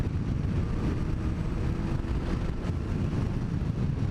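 A 1997 Yamaha Diversion motorcycle climbs a hill in top gear, its engine droning steadily and loudly at high revs under heavy wind rush, with no talking.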